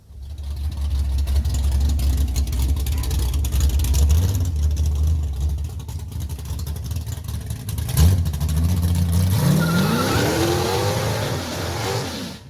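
A tractor drives and slides into an unintended drift, its engine droning steadily up close, then revving and rising in pitch as it accelerates near the end.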